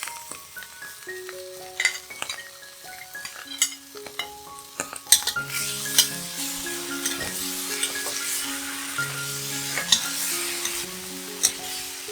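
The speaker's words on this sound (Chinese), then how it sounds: "炒均匀。" Vegetarian Fuzhou-style braised ribs stir-fried with tomato ketchup, a steady close sizzle with repeated scraping stirs and occasional light clinks of utensil against pan, no talking.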